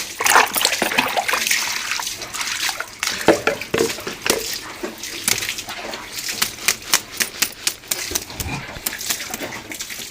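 Water splashes and trickles in uneven bursts as it is poured, loud and close, with repeated rhythmic splashing toward the end.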